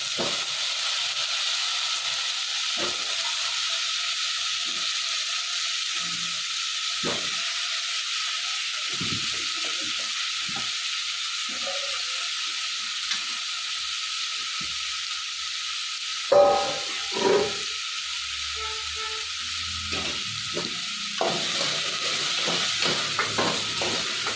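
Drumstick and brinjal fry in oil in a pan for a sambar tempering, giving a steady, even sizzle throughout with a few soft clinks and stirring knocks near the end.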